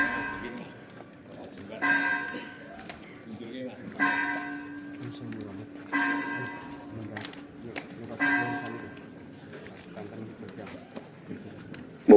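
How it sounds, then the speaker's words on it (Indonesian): Ceremonial Kyai Brojonolo bell at the Yogyakarta palace grounds, sounding in four evenly spaced strikes about two seconds apart, each ringing with a bright resonant tail over steady crowd murmur and talk. "terdengar lonceng Kyai Brojonolo di area kebun telah"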